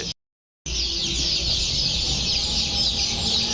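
Tiger chicken chicks in a brooding house, a dense continuous chorus of peeping and clucking that stays loud and close after a brief silent gap at the start.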